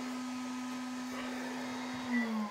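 A BioBidet Discovery DLS bidet seat's warm-air dryer hums steadily with a strong low tone, then the pitch drops and fades briefly as it is stopped near the end; close and fairly quiet, no talking.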